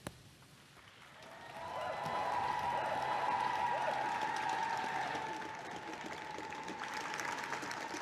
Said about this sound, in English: he's still soaking up the applause on the step of number 10 there